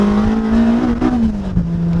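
A Honda Civic Si engine holds a loud, steady high-RPM note that wavers slightly and then eases down a little, heard alone without speech.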